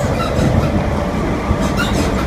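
A train carriage rattles and rumbles as it runs through Oxfordshire countryside, with faint high squeaks over the steady wheel noise, heard close from inside the carriage.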